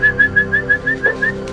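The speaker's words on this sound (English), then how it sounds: "I'm gonna whistle and get these pups to come out here" A person whistles repeatedly to call puppies in, a steady run of about eight short, bright, evenly spaced rising notes, close and clear over low background hum.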